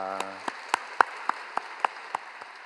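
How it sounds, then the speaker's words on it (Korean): Sparse applause from a church congregation thanking a missionary after an early-morning service, a handful of separate claps spaced evenly over a soft room background, fairly quiet and with no voices. "배드보라 선교사님께 다시 한번 감사의 박수 드립니다."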